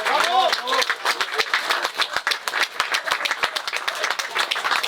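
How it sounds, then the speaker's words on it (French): A crowd at a political rally in Treffendel claps in a loose, scattered patter of individual hand claps, with a voice speaking at the start and chatter mixed under the clapping. "donc ils méritent aussi vos applaudissements."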